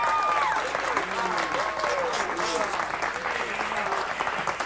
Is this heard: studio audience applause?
yes